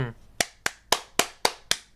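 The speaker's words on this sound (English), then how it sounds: "Everybody clap." Seven sharp, evenly spaced claps ring out close and loud, in a steady beat with short decays between them.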